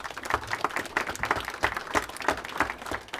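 Audience applause at a Belarusian 'What? Where? When?' quiz club game: steady, fairly close clapping from a seated crowd, even and continuous for the whole stretch.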